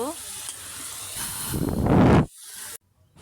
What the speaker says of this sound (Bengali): আমি একটু কষিয়ে তারপরে ঝোল দিয়ে দিব।